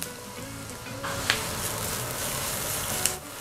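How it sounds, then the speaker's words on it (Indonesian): Garlic sautéing in leftover egg-frying oil after onions, a steady close sizzle with light stirring scrapes and a couple of sharp pops, no talking. "Kita tumis lagi sampai bawang putihnya harum"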